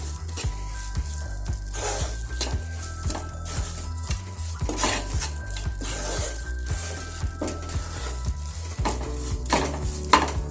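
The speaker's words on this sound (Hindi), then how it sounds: "तो इसको लगातार चलाते हुए पकाना है जब तक कि ये पूरा गाढ़ा नहीं हो जाए" Wheat-flour burfi dough stirred continuously in a kadhai as it cooks and thickens, rhythmic scraping and squishing strokes of a spoon against the pan over a soft sizzle, close and steady.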